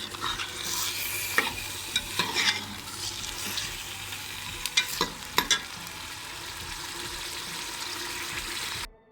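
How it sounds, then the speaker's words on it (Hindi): Chicken gizzards and liver fry in hot oil while being stirred, a steady close sizzle broken by repeated spatula scrapes and clinks throughout, no talk, ending abruptly. "अब हम इनको अच्छी तरीके से गोल्डन ब्राउन करेंगे, फ्राई करेंगे"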